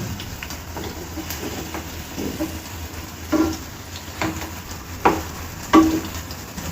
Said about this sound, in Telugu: ఈ సైడ్ కూడా ఇంకొక 2 మినిట్స్ వేయించుకుందాము.